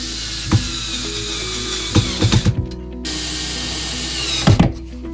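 A power drill drives bolts into the pull-out slide of an IKEA Pax shoe tray, sounding as a steady motor whine broken by several sharp clunks and brief pauses, close and loud, with no talking.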